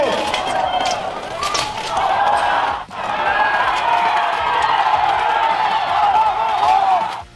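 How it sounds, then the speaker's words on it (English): A large crowd roars and cheers at an armored MMA fight with sword strikes and a takedown, loud sustained crowd noise with a brief dip, whoops and possible commentary over it. "And you can hear the crowd amazed."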